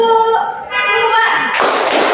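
Children voice a counting chant in a group clapping game, then a burst of many hands clapping together follows near and loud.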